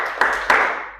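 Two crisp hand claps a fraction of a second apart in a classroom clapping game, near and clear, each trailing off in room echo.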